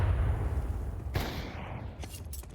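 Gunfire in Counter-Strike during an ESEA match: a dense, rumbling burst of shots under crowd-like noise, with a sharp crack around the middle and a few fainter follow-up hits toward the end.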